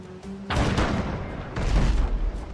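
Ship cannons fire in a naval battle in Abandon Ship, a burst of heavy booms with a rumbling, crackling barrage that continues through the clip. The shots are loud and close and follow a brief quiet moment.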